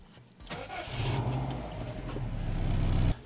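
A Subaru Impreza WRX GDA engine cranks and catches, then settles into a deep, steady idle that swells slightly louder, close up with no voices.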